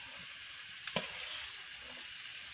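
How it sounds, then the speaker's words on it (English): Tomato and pepper hitting a pan of frying vegetable sauce for white rice, a steady broadband sizzle with a brief sharper crackle burst as the ingredients go in, no talking. "let me add the tomato and pepper"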